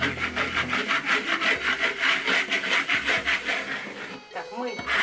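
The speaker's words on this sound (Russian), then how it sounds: "мармура полируется так же, как венецианская штукатурка. То есть, если вы кельмой будете полировать" A steel trowel rubbing over Moroccan marmorino plaster on a wall, a steady rhythmic scraping swish repeating about three times a second, close and fairly quiet, pausing briefly near the end.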